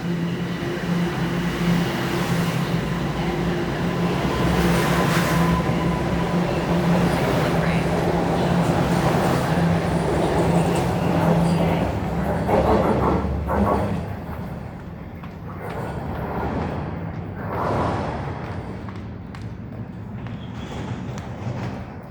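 A Toronto subway train rumbles and rolls out of the station loudly on a weekday morning, the roar fading as it departs, with people talking in the background.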